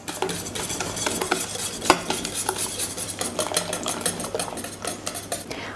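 Eggs and flour whisked into batter in a bowl for a quick cabbage pie, with steady rapid clinking and scraping of a whisk against the bowl, close and continuous, without talk.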